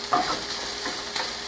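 Food sautéing in a pan with baked tofu among colorful ingredients, a steady sizzle broken by a few scraping stirs, close and alone with no talk.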